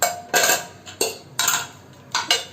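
A metal lid is lifted off and handled on a pot of soup that has just simmered in a home kitchen. Three or four sharp clanking, scraping bursts come close and clear, with short quiet gaps between them and no talk.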